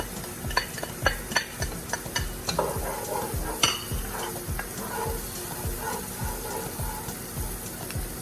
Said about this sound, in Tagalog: first of all, we're going to put our cooking oil. Saute our onions.